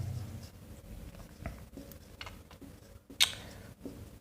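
A marker or chalk scratches across a board, a few short quiet strokes and taps with a brief sharper squeak near the end, with no talking.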